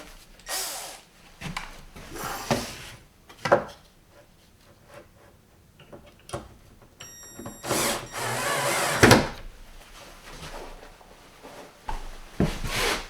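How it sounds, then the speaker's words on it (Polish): Several short bursts of a power drill driving euro screws into a wooden drawer body, separated by pauses and handling noises, close by with no talking. "Możemy mocować już tutaj do korpusu. Tak jak mówiłem, na eurowkręty"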